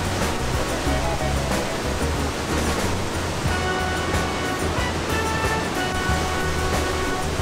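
Roaring water of Iguazu Falls, a massive waterfall, pours in a steady, loud, dense rush that fills the whole clip with continuous broadband noise and no voices.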